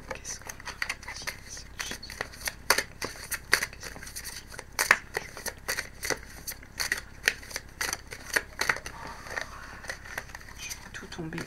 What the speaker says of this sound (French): Hop, je vais aller tirer la carte.